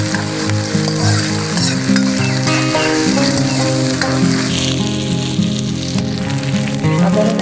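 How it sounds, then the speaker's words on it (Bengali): Ground coriander and cumin paste sizzling and being stirred in a hot pan for a vegetarian unripe jackfruit curry, a steady close frying hiss with music playing throughout. "ধনিয়া বাটা দিয়ে দিচ্ছি, জিরা বাটা দিয়ে দিচ্ছি। এবার এগুলোকে আমি ভালোভাবে কষিয়ে নেব।"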